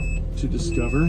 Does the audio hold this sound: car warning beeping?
yes